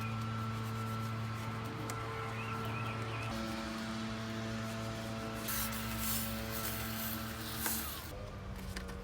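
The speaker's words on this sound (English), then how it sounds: "I have my multi-spray right here with some degreaser, all-purpose cleaner mixed for engine bay clean and deep clean and interior clean." Multi-spray bottle misting a mixed degreaser and all-purpose cleaner during a Subaru STI detail, a steady hissing spray running for several seconds over a persistent tonal machine hum, with brighter bursts near the end.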